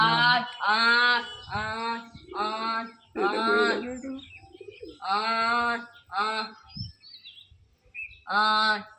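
Pigeons coo close by in repeated throaty bursts with short pauses between them, the calls clear and loud with no talking.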